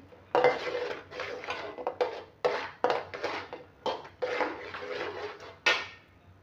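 Roasted sesame, peanuts, nutmeg and cardamom powder being mixed into sugar syrup in a pan for murmura laddu, heard as close, repeated clattering scrapes of a utensil against the pan in uneven bursts.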